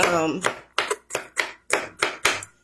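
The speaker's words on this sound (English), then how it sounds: "Sorry about the banging, I'm just trying to chop it up" A knife chops on a cutting board in about seven sharp, evenly spaced strikes, close and fairly loud, with a voice heard near the start.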